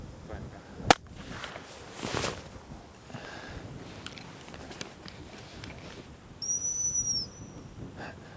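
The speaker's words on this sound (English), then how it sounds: "Now blow the whistle." A dog training whistle gives one short, shrill blast about two-thirds of the way through, against a quiet outdoor background; a sharp crack is heard earlier on.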